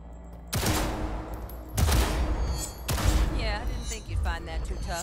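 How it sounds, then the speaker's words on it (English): Gunfire from an M10AF Lexington pistol at tactical target practice in Cyberpunk 2077: three loud, close bursts of shots, each trailing into a rattling decay, with a faint electronic whine after the third. "Let's blast through a tactical target practice program."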